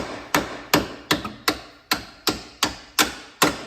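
Nine sharp hammer taps, close and evenly spaced, drive a bolt with its end plating removed into place on a Viper GTS track build, each strike ringing briefly before the next.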